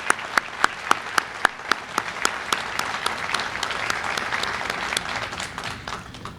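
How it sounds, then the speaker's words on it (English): Applause at a signing day event honouring industry partners and signees, opening with a few sharp, evenly spaced claps that swell into steady crowd clapping, moderately close. "let's give a round of applause to all our industry partners and all our signees"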